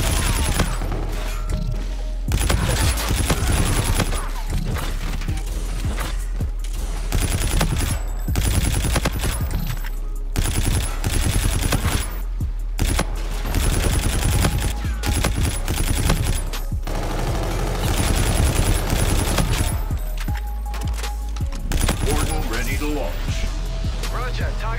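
Assault rifle fire in a Call of Duty video game rattles in dense, rapid bursts, loud and nearly nonstop, with a player talking over it.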